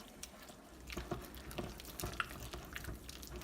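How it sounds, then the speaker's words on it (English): Pound cake batter being stirred in a bowl for a Mardi Gras pound cake, a quiet series of soft, irregular scraping and sloshing strokes over a low background hum. "Let's just stir it up."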